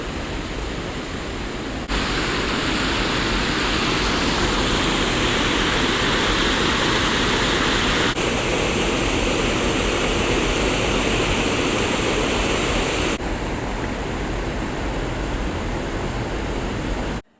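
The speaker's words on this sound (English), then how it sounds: "there's quite a bit of water coming over the lock in this one" Water pours over a canal lock gate on a river narrowboat trip, a loud, continuous roaring rush like a small waterfall, steady throughout with slight shifts in intensity and no talking.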